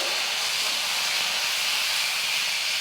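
Tomatoes for tomato salna hitting a hot pan, a loud, dense, close hiss of sizzling that holds steady without a break for the whole short stretch.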